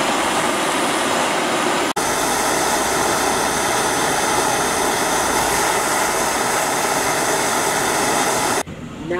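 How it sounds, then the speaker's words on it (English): A MAPP gas torch roars steadily at close range while soldering a brass adapter onto the end of a pipe for an outdoor faucet, a broad continuous rushing flame that cuts off sharply near the end. "I prefer to use Mapp Gas to solder with instead of propane"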